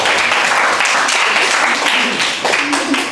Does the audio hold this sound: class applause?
yes